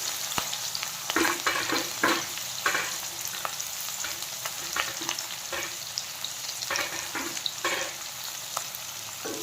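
Onions, cumin, fenugreek seeds and cardamom sizzle steadily in hot oil for chana dal, a constant crackling fry punctuated by scraping stirs with a spoon, close and without talking.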